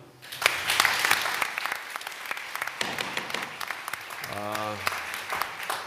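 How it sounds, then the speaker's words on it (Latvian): Sustained applause from a conference audience for a lumberjack, a dense even clatter of many hands that lasts several seconds, with a brief voice rising near the end. "Mežstrādnieks Jevgeņijs, aplaus viņam"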